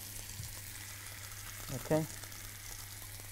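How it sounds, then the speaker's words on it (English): Chicken pieces searing in a hot pan, a faint steady sizzle under a low background hum, with a brief louder hiss near the middle and a voice speaking briefly. "You're listening for that sear."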